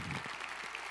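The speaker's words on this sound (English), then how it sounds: "Let's give all of these a big round of applause." Brief burst of audience applause at a public sector breakfast event, a short steady patter of many hands clapping, moderately faint.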